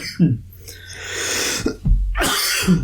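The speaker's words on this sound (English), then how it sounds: "Damn, I cannot quit coughing." A person coughing repeatedly, close up: several harsh, rough bursts with breathy throat noise and short gaps between them, loud and alone with no speech.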